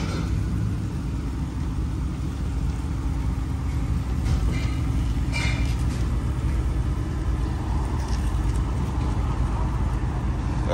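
An SRT Jeep idling with its straight-pipe exhaust removed, a steady, fairly loud low rumble that holds evenly throughout, with no talking over it.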